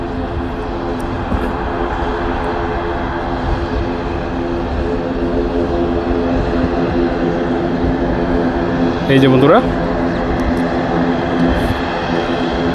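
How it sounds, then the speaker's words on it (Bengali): An IndiGo Airbus A320 taking off at Dhaka Airport, a loud, steady jet engine roar that holds throughout with a brief rising whine near the end, and a voice speaking briefly at the start. "হাওয়ার উপরে ভেসে উঠল বিমানটি অ্যান্ড চলে যাবে তার নির্দিষ্ট গন্তব্যে"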